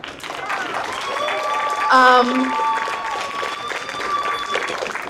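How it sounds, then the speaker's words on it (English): An audience at a presidential candidate forum with Los Angeles voters claps in a sustained, even patter that runs throughout, under a speaking voice and a brief tonal sound partway through. "we were celebrating just like everybody's clapping now"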